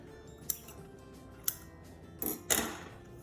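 Scissors snip through masking tape in a craft project: a few sharp, close cuts spaced out over a few seconds, with quiet room tone between them.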